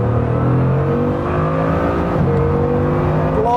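A Bugatti Chiron Super Sport accelerates hard onto the Autobahn, its engine note climbing steadily as it pulls, loud and close from inside the car, with no voices.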